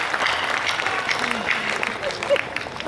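Audience applause at a poetry recital (kavi sammelan), a dense continuous patter of many hands with a few louder claps and some voices mixed in.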